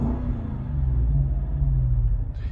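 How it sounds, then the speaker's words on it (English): A 2009 Lexus IS-F V8 idling and revving in neutral, heard from inside with the doors closed as a steady, muffled low rumble that swells slightly, close and continuous. "And rev this car again, so it's in neutral, just so you can hear"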